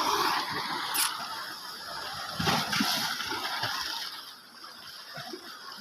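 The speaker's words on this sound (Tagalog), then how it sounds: "Grabe lakas ng alon oh" Strong sea waves surge and crash at a roadside fishing spot. A loud, continuous rush of churning water is broken by a few heavier splashing bursts before easing off toward the end.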